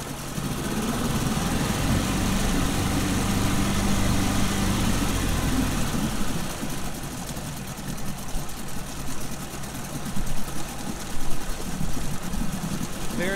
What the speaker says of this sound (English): I know that the engine is actually starting to warm up already.